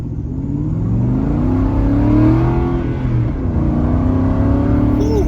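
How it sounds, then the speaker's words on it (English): An Aston Martin accelerates hard, its engine note rising steadily in pitch with a loud, close, sustained roar that dips briefly near the middle before climbing again as the car gathers speed. "Alright, I'm gonna go one more time and I'm gonna let her rip."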